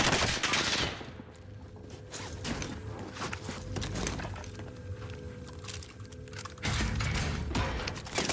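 Rapid automatic gunfire from a Welgun submachine gun in Call of Duty Warzone, sustained bursts close and loud with mechanical clatter, growing louder again near the end.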